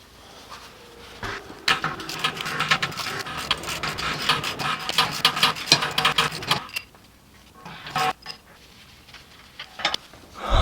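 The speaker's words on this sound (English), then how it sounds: "I just undid the nut" A hand wrench works a nut loose on a BMW X5 4.8is with rapid, close ratcheting clicks for several seconds, then a pause before a few more metallic clicks and knocks.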